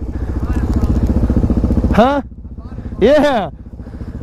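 A motorcycle engine runs close by with a fast, loud, pulsing idle that cuts off, while people talk briefly in short exclamations over and after it.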